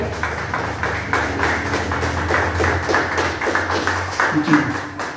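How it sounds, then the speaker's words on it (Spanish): A church congregation claps together in praise, a dense, steady wash of handclaps filling the room with a low hum of voices beneath. "Le damos una fuerte ofrenda de palmas a nuestro Padre Celestial"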